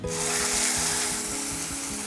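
Ground spice paste sizzling in hot oil with mustard seeds, curry leaves and asafoetida for a green pea curry, a loud continuous close sizzle with rhythmic scraping stirs.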